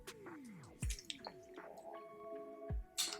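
A few quiet drips and plops of water falling into a glass of Talisker 10 single malt Scotch whisky, with short gaps between them and soft liquid squishes.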